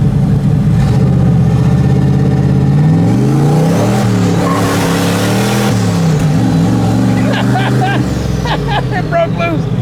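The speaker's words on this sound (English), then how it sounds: "the Suburban's breaking loose at only 5 pounds of boost" Turbocharged Chevrolet Suburban doing a burnout, its engine droning loudly and climbing and falling in pitch as the revs rise, with people talking over it and high squealing tire sounds coming through toward the end.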